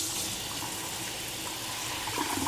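Running tap water rinses a lemon peel at a sink, a steady, close splash and patter of water with slight changes in its flow.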